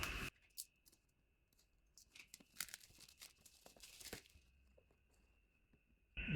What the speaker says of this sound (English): So let's cut the plastic film.